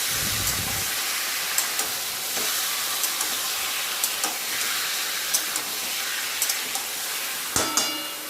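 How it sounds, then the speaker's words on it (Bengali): Meat frying with onions in a pan, a steady loud hiss of sizzling with intermittent clinks and scrapes as it is stirred. "তো এবার একটু নাড়াচাড়া করে নেব। পেঁয়াজের সঙ্গেই মাংসটা একটু ভাজবো।"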